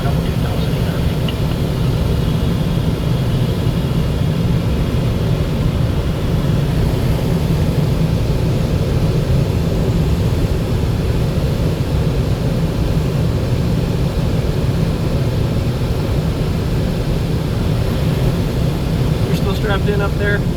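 Steady, loud aircraft and engine drone during a glider departure from a grass runway, with constant broadband rumble and no pauses, and a voice talking over it.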